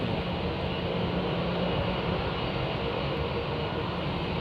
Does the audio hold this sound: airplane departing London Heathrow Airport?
yes